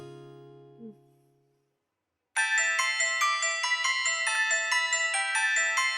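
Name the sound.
phone ringing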